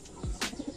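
A pigeon gives a brief coo, a quick low swooping note followed by a short rustle and soft murmurs, close and faint, lasting under a second.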